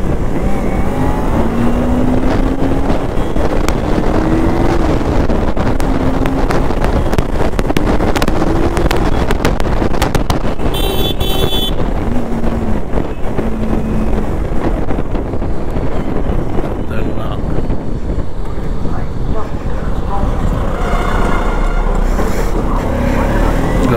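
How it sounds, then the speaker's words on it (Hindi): A Kawasaki Ninja motorcycle's exhaust drones while being ridden on the road, its engine note rising and falling through gear changes under constant heavy wind buffeting on the microphone, loud and continuous. "गाड़ी का एग्जॉस्ट साउंड ही ना इतना खतरनाक है ना कि क्या बताऊं"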